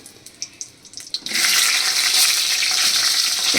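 Okra dropped into hot oil in a pan for a hing-spiced curry; light clinks for a second, then a sudden loud, steady sizzle and crackle that holds to the end.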